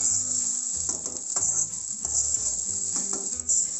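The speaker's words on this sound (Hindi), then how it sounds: "इसको मैं हिलाऊंगी, मिक्स करूंगी, इस तरह से मिक्स कर लूंगी।" Egg fried rice sizzling in a hot pan as it is stirred and mixed, a continuous close hiss with soft scraping strokes of the spatula throughout.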